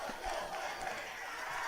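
Crowd noise at a Cache vs Clinton high school football game, a distant, broad roar of many voices held fairly low and steady for a moment.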